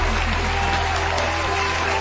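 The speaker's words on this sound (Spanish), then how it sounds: "merece otro aplauso" Applause from a live radio-show audience in Aruba, a dense continuous patter of clapping filling the short moment at steady volume with a low hum underneath.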